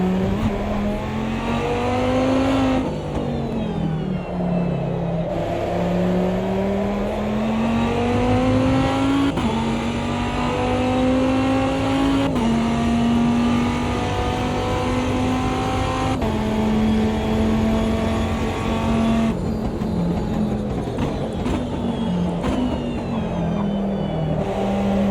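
A Dodge Viper GTS-R race car from the 2005 ALMS season in Automobilista 2 roars loud and close, its engine climbing through the revs and dropping with each gear change in a repeating cycle of acceleration over 25 seconds.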